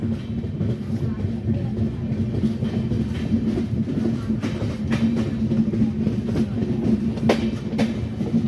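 A passenger train pulls into Anjani station at night, its wheels rumbling and clicking steadily over the rails at close range, with sharp metallic clanks cutting through the continuous roar.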